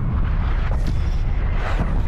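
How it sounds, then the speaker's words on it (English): Artillery shells burst in a Call of Duty: Black Ops Cold War match, a loud, close, rolling barrage of deep booms and rumbling blasts that runs without a break for about two seconds. "Artillery inbound."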